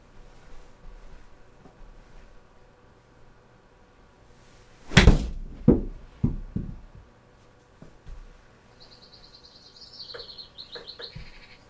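A golf ball struck by a club during a test shot: one sharp, loud impact crack, followed by a few quieter knocks and faint ambient noise afterward.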